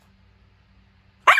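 A single loud bark from a big Rottweiler bursts in abruptly at the end after near silence with a faint low hum.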